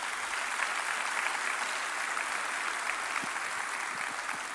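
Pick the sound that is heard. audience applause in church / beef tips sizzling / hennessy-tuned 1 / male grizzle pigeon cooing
audience applause in church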